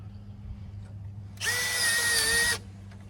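A power drill drives a screw into a window screen frame in a single loud, steady burst of about a second, close by, with a low hum before and after.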